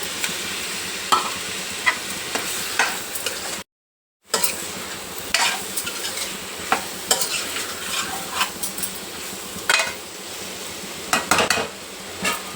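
Cut tomato pieces sizzle in a pan with capsicum, salt, chili powder and masala while a spoon stirs and scrapes against the metal, with a steady fry under repeated clinks and a brief gap of silence.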